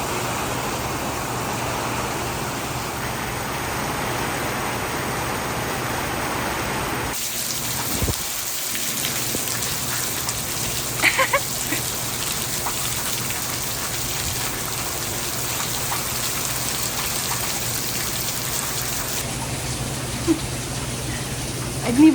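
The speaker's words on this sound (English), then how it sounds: "I didn't even go in the rain and it's hitting me." Steady rain falls outdoors in a broad, continuous hiss with scattered drops hitting close by, holding at an even level throughout with no voices.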